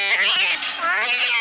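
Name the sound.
cat yowling in a movie scene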